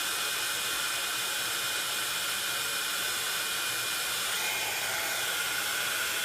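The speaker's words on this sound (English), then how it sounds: "I'm going to heat this up again." A heat embossing tool melts embossing powder, giving a steady, fairly loud blowing whoosh like a hair dryer that runs unbroken for the whole stretch, with no talking.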